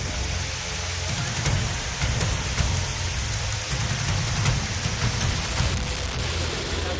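Heavy rain pours down across parts of Gujarat, Maharashtra and Madhya Pradesh, a dense continuous hiss of falling water with low rumbling patches, loud and unbroken throughout.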